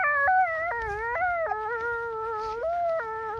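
A person imitating a dog's howl outdoors on a hillside walk, giving a series of long, wavering, high-pitched howls that step up and down in pitch, with no talk.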